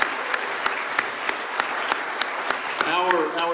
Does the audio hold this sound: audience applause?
yes